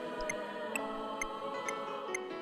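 Rhythm game osu! metronome ticking at a steady pace, five or six crisp, evenly spaced clicks over quiet background music.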